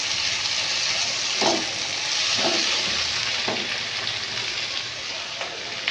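Potatoes and tomatoes fry in a covered pan in a steady, close hiss, with a few soft clinks and stirs breaking through the even sizzle.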